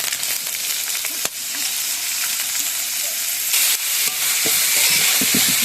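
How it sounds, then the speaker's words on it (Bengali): Potatoes fry in a pan with onion, chilli and salt, a steady bright sizzle running throughout while a utensil stirs and scrapes, with occasional louder clinks and a brief sharp knock near the start; no one speaks. "আলুটা এখন ভালোভাবে ভেজে নিব।"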